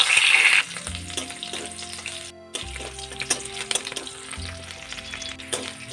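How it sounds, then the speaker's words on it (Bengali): Large chunks of onion fry lightly in hot sunflower oil, a close, steady sizzle and crackle broken by a few soft stirring bumps, with no talking. "এইবার পেঁয়াজের যে বড় বড় টুকরোগুলো একটু হালকা করে ভেজে নেব"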